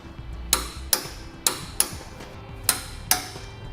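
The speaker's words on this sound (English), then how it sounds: "now we'll torque all of our hardware using a torque wrench to the amount specified in the instructions" Torque wrench tightening Curt Class 3 trailer hitch receiver hardware on a 2017 Nissan Rogue: six sharp, ringing metallic clicks at irregular intervals, close and distinct over a low background hum, with no talking.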